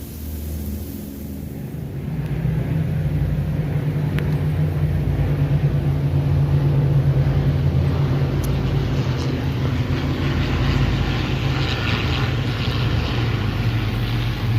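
Vintage warbirds at an air show, P-51 Mustangs and a B-29, passing over a house with a deep, steady propeller drone that swells after the opening seconds and holds loud and continuous to the end.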